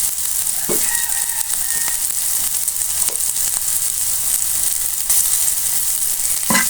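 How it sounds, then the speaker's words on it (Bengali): Loud, continuous sizzling of eggplant frying in oil, broken by a few scraping stirs, with no voices. "এটা একটু নেড়ে হালকা ভেজে নেব"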